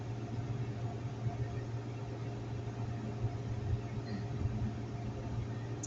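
Steady low engine drone and road rumble fill the cabin of a moving car, constant and fairly quiet throughout with no distinct events.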